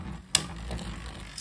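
A Beyblade launcher ripcord yanked once in a quick ratcheting zip, followed by the low whir of the spinning top, close and brief with no talking.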